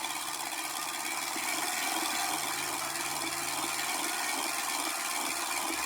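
A hand-cranked motion picture camera, not spring-wound, runs with a steady mechanical whirring and clatter held at an even level from start to finish, close by and with no talk.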